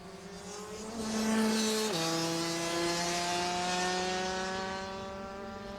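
Rotax DD2 racing kart engines whine past on track in a high, buzzing rush, the pitch dropping sharply as the karts go by, then fading slightly into the distance.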